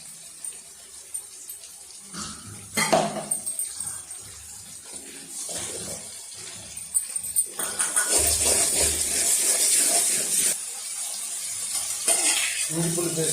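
Ginger garlic paste sizzling and frying with softened tomatoes in a pan for prawn thokku, a low crackle swelling into louder steady hissing with occasional stirring scrapes.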